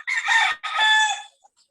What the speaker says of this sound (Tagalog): may manok kita na.